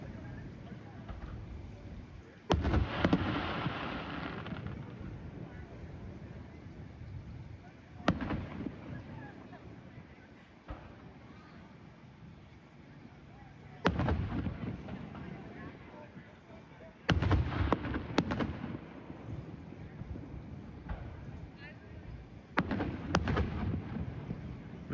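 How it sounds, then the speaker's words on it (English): Fourth of July fireworks burst in a series of sharp booms spaced several seconds apart, heard from a residential rooftop with neighboring houses around, fairly distant, with steady wind noise between the blasts. "I'm standing on my roof so I can see the fireworks better."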